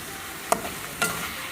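A spoon stirs a ginger paste and milk mixture in a pan for chicken fried rice under a faint background sizzle, with two sharp scraping clinks about half a second apart.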